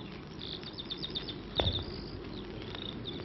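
A bird on a countryside hillside gives a series of high, quick chirps and trills, faint and somewhat distant, over a soft steady outdoor hiss, with one brief louder thump midway.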